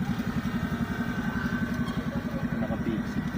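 Small motorcycles idle and putter with a steady low throbbing engine pulse, heard from close by on a mountain road, with light clatter and occasional background noise.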